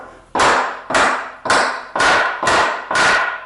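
Six heavy, evenly spaced hammer whacks drive pallet nails straight down onto short stubs, each strike sharp and close with a brief ringing decay before the next.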